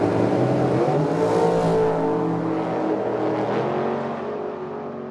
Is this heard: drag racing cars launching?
yes